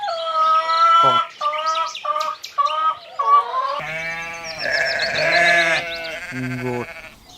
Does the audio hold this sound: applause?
no